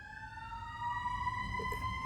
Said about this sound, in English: You hear them sirens? That's confirmation.